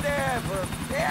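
A helicopter in the video game GTA IV whirs with a rotor drone and pitch-shifting engine whine, brief and prominent, with someone talking over it.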